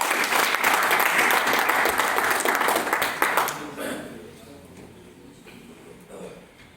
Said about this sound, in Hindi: बाकी जाने के लिए जोरदार तालियां